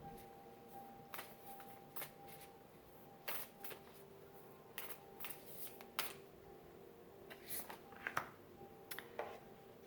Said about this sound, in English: Ooh, these cards are sticking together a little bit.